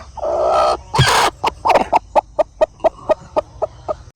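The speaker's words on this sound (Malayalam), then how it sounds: "ഇവിടെയാണ് നമ്മളെ പൊരുത്തം വെച്ചുള്ള കോഴി" A hen in a backyard chicken coop gives a rapid series of about a dozen sharp, evenly spaced clucks after a longer opening squawk, close and loud with no talk.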